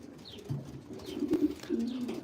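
Racing pigeons cooing close by, a series of soft, low, rolling coos that swell and fade over a couple of seconds, with no talking over them.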